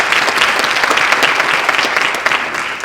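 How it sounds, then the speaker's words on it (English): An audience at a talk on dementia and improv gives a loud, close round of applause, full and steady before easing off slightly at the close, with no speech heard. "And another round of applause,"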